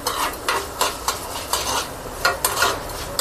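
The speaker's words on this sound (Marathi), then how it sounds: "हा जिन्नस भाजणं खूप गरजेचं आहे." Ingredients for curry leaf chutney are dry-roasted in a pan, with quick, regular scraping stirs sounding close up over a soft background sizzle and no talking.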